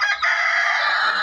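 Farmyard chickens, a hen and a rooster in a small poultry pen, with a loud, close rooster crow sounding continuously after a brief dip, dense and strident throughout.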